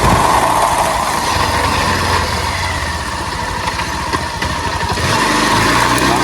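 A loud, steady engine roar runs throughout, a motorbike droning under way with constant rumble and road noise.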